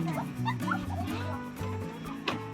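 Puppies yipping and whimpering close by in a house, a busy run of high squeaky yelps and whines over a low background hum.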